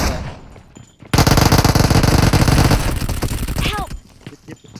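Sustained loud automatic gunfire in the video game PUBG Mobile on the Sanhok map: a rapid burst of shots runs for about three seconds, close and dominant, with speech around it.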